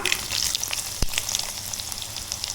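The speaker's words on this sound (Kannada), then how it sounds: "ಬೆಳ್ಳುಳ್ಳಿ, ಸಾಸಿವೆ ಸ್ವಲ್ಪ, ಇನ್ನು ಇದಕ್ಕೆ ಈರುಳ್ಳಿ ಹಾಕ್ಕೊಳ್ಳುವ" Crushed garlic, mustard seeds and onion sizzling in hot oil in a pan, a steady close crackling fry with one sharp spatter in the middle and no voices.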